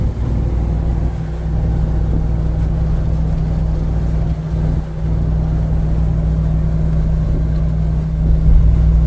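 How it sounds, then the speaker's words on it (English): A boat powered by three motors idles and runs with a steady, loud, low engine rumble that holds continuously throughout. "check out this boat. Three motors."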